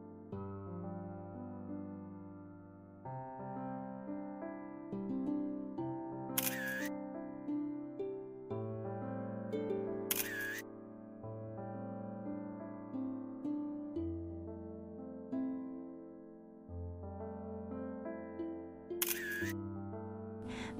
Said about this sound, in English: consider adding a camera shutter sound to the video